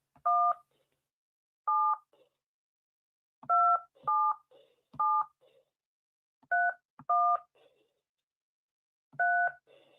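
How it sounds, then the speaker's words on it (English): Telephone keypad tones sounding as a number is dialed, about ten short two-tone DTMF beeps in uneven rhythm, clear and close with silence between presses. "Let me just dial this phone number up."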